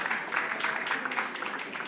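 Audience applause at a conference on industrial circular-economy startups in Pays de la Loire, a steady patter of many hands clapping at moderate volume, with a voice faintly present.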